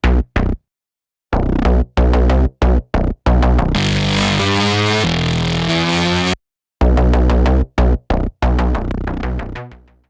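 A Massive X synth patch called Garage Riff, run through Guitar Rig and a limiter, plays loud, dense rumbling bursts between phrases, with choppy stabs giving way to a sustained distorted swell, then more chopped hits.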